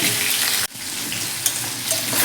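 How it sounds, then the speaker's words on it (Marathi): Onion and onion-tomato paste roasting in a pan: a loud, close, hissing sizzle that drops out briefly for an instant, then returns steadily with small pops, and no one speaking. "अजून एक दोन तीन मिनिट आपण छान असा आपला कांदा मोठे होईपर्यंत भाजून घेऊयात"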